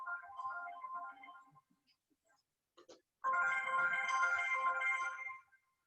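A telephone ringtone plays in two separate bursts during a lecture: a short melodic ring, a pause with a faint tap, then a longer, louder ring before it stops.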